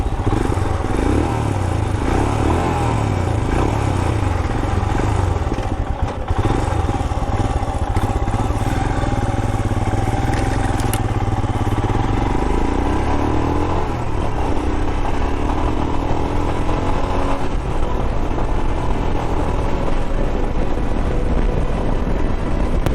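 A 2021 Royal Enfield Himalayan BS6 motorcycle runs and is ridden, its engine droning steadily and close up with a noticeable pitch shift midway as it changes pace, under constant wind rush.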